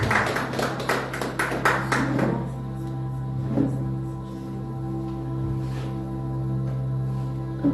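A church congregation claps in a brief burst of applause that fades after a couple of seconds, leaving a quieter room with a low sustained hum and occasional faint sounds.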